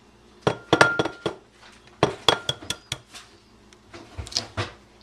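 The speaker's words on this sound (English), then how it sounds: "So now we are going to crack the eggs." Two eggs being cracked into a bowl during a home economics cooking project, with sharp taps and clinks against the bowl's rim in quick clusters, close and fairly loud, with brief gaps between strikes.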